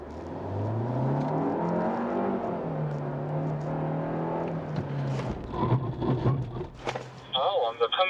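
A Hyundai, Kia or Genesis car accelerating away on a driving course, engine note rising steadily as it pulls off and fades, followed by clattery noise and a voice talking.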